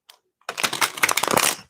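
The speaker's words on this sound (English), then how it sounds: "Let me shuffle." A deck of tarot cards being shuffled by hand, a close, busy run of crisp riffling and flicking that goes on for over a second after a brief tap.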